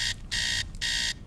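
An alarm clock in a radio ad for the iHome Voice Bedside Clock System rings in two loud, sustained electronic bursts with a short gap between them, heard alone.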